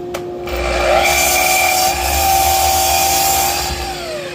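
A loud, continuous power saw cuts through wood, with a steady hum and a rough rasping edge that swells and eases.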